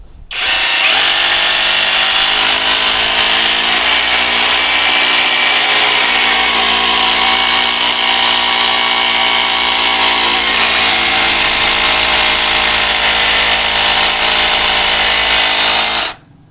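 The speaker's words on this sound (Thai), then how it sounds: "เดี๋ยวผมจะลองเจาะด้วยดอก 10 มิลให้ดูนะครับ" A loud, continuous OSUKA OSRH-26 cordless brushless rotary hammer drills into concrete with a 10 mm bit for about fifteen seconds without pause, starting and stopping abruptly, close by and dominating.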